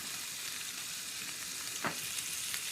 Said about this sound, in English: And fry until a little bit crispy.